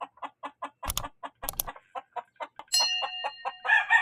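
A Kelso gamecock clucks in quick, evenly spaced pulses, with a couple of sharp flapping bursts and a brief higher call near the end, close and clear.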